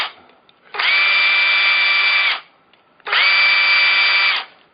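Power drill reaming powder-coated rivet holes in a computer chassis, two loud steady whirring bursts of about one and a half seconds each, separated by a short pause, close and clear.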